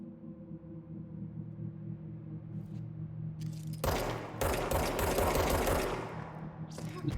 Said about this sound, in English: Using the flash of the gunfire to see.